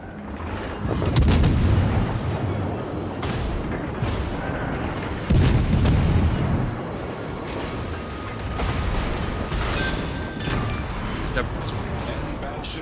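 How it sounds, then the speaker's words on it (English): An enemy battleship is shelled and destroyed in a video game, with heavy booming blasts and rumbling explosions repeating over a dense roar, and a voice talking over it. "Enemy battleship destroyed."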